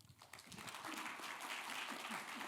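Audience applause rises and holds steady as a lecture ends at a Seoul conference on humans and AI, a dense, continuous crowd clapping filling the hall.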